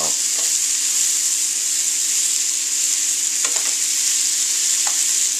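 Mushrooms sautéing in butter in the pan a steak was cooked in, a steady loud sizzle with a few light clinks of a utensil stirring, no voices.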